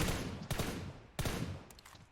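Two bursts of rapid gunfire in PUBG New State, each fading into rumbling echo, followed by a few softer, quicker shots near the end.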